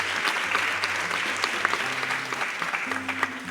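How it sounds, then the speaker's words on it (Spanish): Audience applause for a speaker at a literary panel on memory and identity, a steady dense wash of clapping that holds throughout with a few louder individual claps. "Un aplauso también para Luis."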